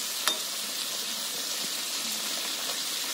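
Hog plums simmer in a little water in a pot, giving a steady, soft bubbling hiss with an occasional faint clink, close by and with no voices.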